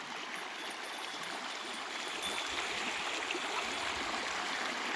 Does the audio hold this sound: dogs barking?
no